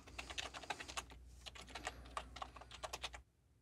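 Rapid keystrokes on a computer keyboard while a SQL query is typed, a steady run of crisp close clicks with short pauses, then stopping near the end.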